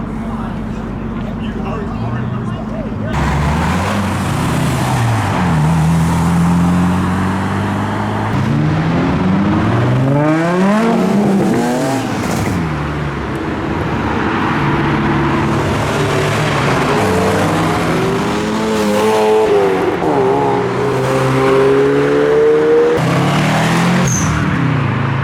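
Modified cars, including a Nissan Micra, pull away one after another from a Japanese car meet in Reading, with rising and falling engine revs, passing vehicles and brief tire noise, while people talk throughout.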